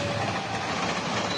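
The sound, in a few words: train passing on rails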